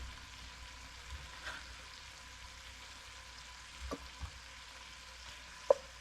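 Bacon sizzling in a pan, a faint, steady low crackle with a few soft knocks and one sharp clink near the end, heard close but quiet and without any voices.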